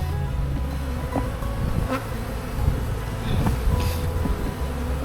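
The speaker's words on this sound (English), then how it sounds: "These bees are going crazy." Honey bees buzz densely and agitatedly around an opened beehive during a honey harvest, a close, continuous swarm drone with no talk.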